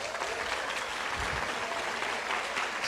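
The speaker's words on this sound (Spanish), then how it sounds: "Sí, aplaudan, ya veremos cuando salga." An audience applauds at a talk, a steady, moderately distant patter of clapping filling the whole stretch without pause.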